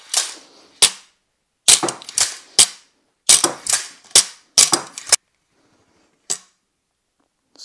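A toy spider dart launcher fires in a quick run of sharp snapping pops, several clustered together and a last lone shot after a pause, loud and close against silence.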